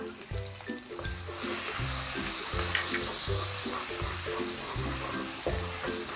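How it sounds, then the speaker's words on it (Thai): Garlic stir-frying in a hot pan for pork and ginger stir-fry: a steady loud sizzle with scraping stir strokes repeating in a regular rhythm, close and continuous throughout. "เราจะผัดกระเทียมนะคะ ให้เกลียมและหอมก่อนนะ"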